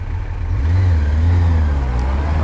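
A motorcycle pulls away from traffic lights in town traffic, its engine note rising steadily and loudly close by for a couple of seconds, with a low rumble throughout.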